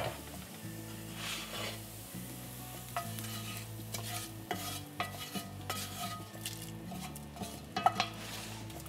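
Cooked onions are stirred into a pot of dal: a spoon scrapes and clinks steadily against the pot over a soft, continuous sizzle, with small knocks and a sharper clank near the end.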